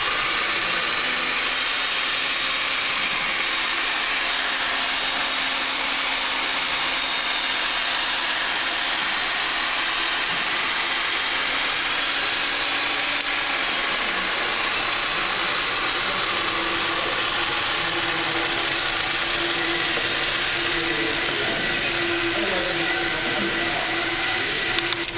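A Ridgid 300 pipe threading machine runs steadily as it threads a length of pipe, a continuous mechanical grinding and whirring drone with faint ratcheting texture, moderately loud and sustained with no speech.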